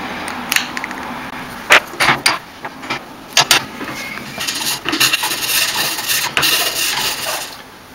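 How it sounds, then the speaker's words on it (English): A hand file rasps across a homemade part to flatten an edge, giving irregular scraping strokes with sharp clicks and knocks, close and fairly loud, with no voices. "So what I want to do is take a file. I just want to flatten this edge right here."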